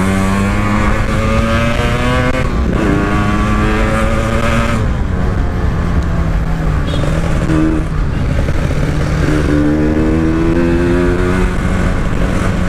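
A Yamaha RX King motorcycle fitted with a Ninja engine revs repeatedly out on the road, loud and close, with rising and falling throttle blips over a steady idle.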